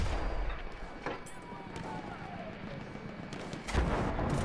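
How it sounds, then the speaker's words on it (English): Artillery fire in the Battlefield 1 video game booms in heavy, rumbling blasts, with one loud burst near the start and another near the end over continuous low battlefield noise. "I know this guy's shooting me with artillery"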